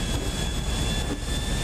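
Steady jet airplane engine roar in GTA 5 Online, a continuous broadband drone with a faint high whine, loud and unbroken with no talking.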